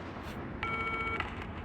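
A short burst of telephone keypad dialing tones in the video game Still Wakes The Deep, a few quiet electronic beeps over a low ambient hum, with no talking.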